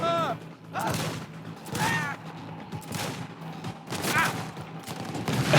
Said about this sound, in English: We got one more explosion.